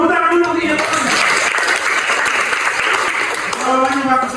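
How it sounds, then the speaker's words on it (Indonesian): Students in a high school civics class clap for a classmate, producing a brisk, dense burst of applause at close range. A teacher's voice is heard at the start and end around the clapping. "Tepuk tangan dulu untuk Inyo tenang."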